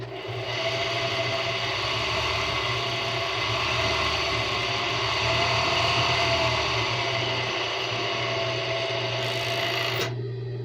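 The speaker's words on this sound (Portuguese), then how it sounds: "Agora aqui eu passo overlock em tudo" An overlock serger stitches along the side edges of a strappy ruffled dress, a steady close-up whirring that runs without a break for about ten seconds and cuts off at the very end.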